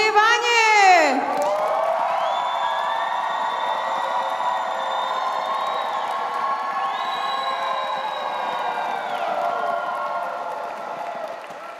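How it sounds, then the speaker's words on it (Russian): Crowd at a dance battle cheering, whooping and applauding, a loud sustained roar of voices and clapping after a brief electronic sweep, with high shouts rising and falling throughout. "Ну что ж, теперь мы готовы замерять аплодисменты для наших пар."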